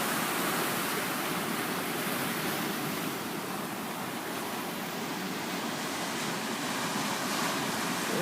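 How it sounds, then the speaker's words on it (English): Ocean waves breaking on the shore in Kauai with a slight breeze, a steady, dense wash of surf and hiss that stays loud and unbroken throughout, with no voices. "Watching the wave sound."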